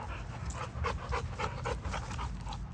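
A dog pants rapidly in short, rhythmic breaths close by in an open field, with faint whimpers mixed in; no one speaks.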